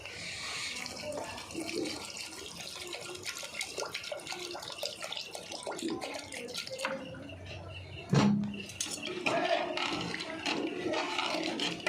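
Water pours into a pressure cooker during home cooking of idli ghugni, a steady running splash over kitchen background noise, with a brief louder clatter midway and continued pouring afterward.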